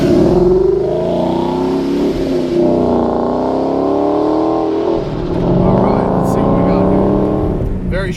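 A loud supercharged 2012 Ford Mustang GT engine revving and droning up and down nearby, with a brief dip midway before climbing again.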